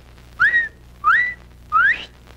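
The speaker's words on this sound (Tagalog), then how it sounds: "Pag pumito ka ng ganyan, yan, nangangahulugan, nandiyan na." Three sharp rising whistles repeated at an even pace, each a brief upward-sweeping note used as a signal, loud and close over a low background hum.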